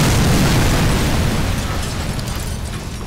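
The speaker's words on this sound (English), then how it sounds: "I don't know how big the explosion is from this" A truck blows up in the Sniper Elite 4 video game, a loud, dense explosive roar that rumbles on for about three seconds before slowly fading, with no voices over it.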